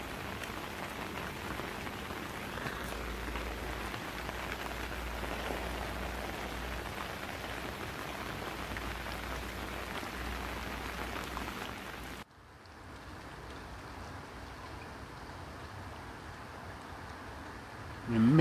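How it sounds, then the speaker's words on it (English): Steady rain falls beside deep water during a mild mid-October fishing session, an even, close hiss of drops that drops abruptly to a softer patter partway through, with no one speaking. "I know it's raining."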